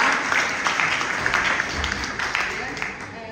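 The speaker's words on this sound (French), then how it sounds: "D'applaudir encore une fois." A crowd applauds at an International Day of the Girl celebration, a dense roomful of clapping that holds steady, then thins slightly toward the end, with voices mixed in underneath.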